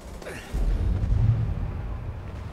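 An explosion goes off in the Mass Effect 2 video game: a deep, rumbling boom lands about half a second in and rolls on as a low, fading rumble.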